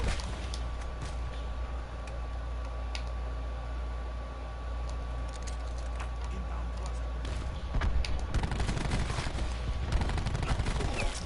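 Maddox assault rifle in Call of Duty Black Ops 4 fires in bursts amid game noise, with a denser run of shots toward the end and faint talk at moments.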